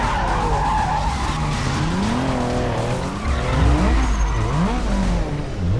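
A Toyota Supra skids to a stop while parking in a video game, tires squealing in long, wavering screeches over a low engine rumble, loud and close, with no voices.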